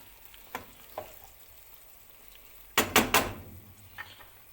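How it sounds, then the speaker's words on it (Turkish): Tomatoes frying in a pan, heard as a soft sizzle with a few light clinks and then three quick loud scraping stirs against the pan, followed by quieter kitchen sounds. "Domates kavrulsun."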